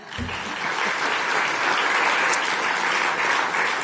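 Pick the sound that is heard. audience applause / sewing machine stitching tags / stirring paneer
audience applause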